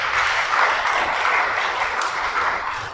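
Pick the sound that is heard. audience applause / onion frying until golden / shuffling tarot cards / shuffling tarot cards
audience applause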